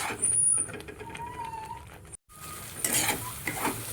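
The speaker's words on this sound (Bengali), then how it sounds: "মশলাটাকে কষিয়ে নেব ভালোভাবে" Spice paste for egg curry sizzles as it fries and is stirred in a pan, a close, crackling hiss broken by spoon scrapes, briefly cutting out before resuming louder.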